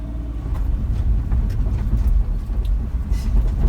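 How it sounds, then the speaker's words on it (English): Suzuki Carry mini truck driving with the diff lock engaged, a steady low engine and drivetrain rumble with uneven bumps and knocks as the truck hops, fairly close and continuous without talk. "To be honest with you, truck's jumping and hopping."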